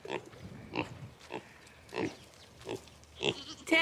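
Pigs at a farm fence give soft, low grunts, about seven short separate snorts spaced at a slow, uneven rhythm, fairly close but quiet.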